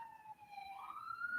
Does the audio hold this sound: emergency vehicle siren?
yes